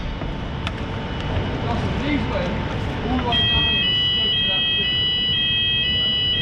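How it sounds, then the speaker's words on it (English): An ammonia or fire alarm in a cold store starts partway through with steady high electronic tones, ringing over the constant noise of the industrial space. "Yo, is that the ammonia alarm?"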